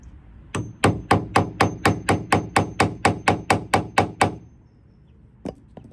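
A hammer strikes a punch resting on an anvil while a narrowboat pram hood is fitted, about fifteen sharp, evenly spaced metallic blows in quick rhythm, close and loud, followed by a pause and two lighter taps.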